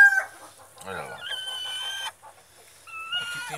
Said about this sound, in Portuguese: Aqui tem uma galinha chocando aqui que eu botei.